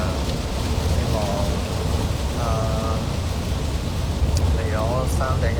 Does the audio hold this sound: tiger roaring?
no